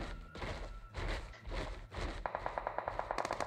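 Rapid automatic gunfire from a shooting video game rattles in a fast, steady burst near the end, after softer shots and thuds, with no talk.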